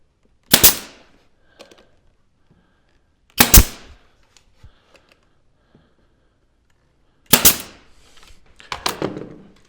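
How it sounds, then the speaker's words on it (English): A nail gun fires into a glued crown molding corner held in a jig, giving three sharp, loud, isolated snaps a few seconds apart, the last followed by faint handling clatter. "Let's put some glue and nail it."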